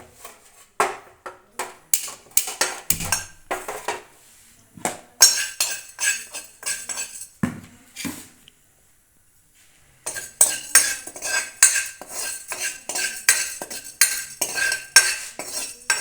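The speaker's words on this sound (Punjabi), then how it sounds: "ਅੱਧਾ ਚਮਚਾ ਪਾਵਾਂਗੇ ਹਿੰਗ ਦਾ ਇਹਨੂੰ ਵੀ ਭੁੰਨਾਂਗੇ ਘੱਟ ਗੈਸ ਕਰਕੇ" Asafoetida (hing) is roasted in a pan over a low gas flame, with a metal spoon repeatedly stirring, scraping and clinking against the pan in uneven bursts, briefly falling silent midway before resuming.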